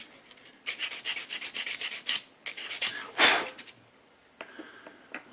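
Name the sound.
sanding a plastic model tank sprocket part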